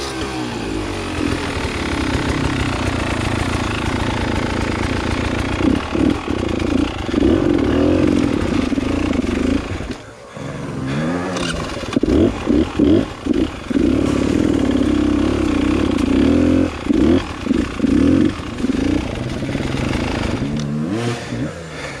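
A motorcycle engine runs close and loud, idling with a rough throb and repeatedly revving in bursts, dropping briefly midway before picking back up with choppy blips of throttle.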